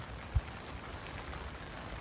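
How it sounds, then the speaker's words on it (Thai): Steady rain falls at night on a fishing campsite, a soft even hiss with one faint low thump, no voices. "ดูแล้วฝนท่าจะตกทั้งคืนนะครับ"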